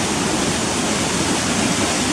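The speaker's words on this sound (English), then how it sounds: "I can look down at the gully where the water's going to run down towards the waterfall at COTTER FORCE" Steady rushing water running down a gully toward Cotter Force waterfall beneath a farmer's bridge, a constant broadband roar without breaks or voices.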